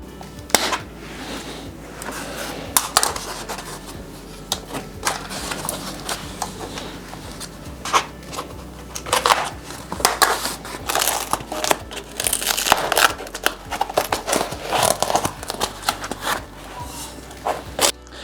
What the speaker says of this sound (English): the first step is to remove the packaging that protected the bike while it was in transit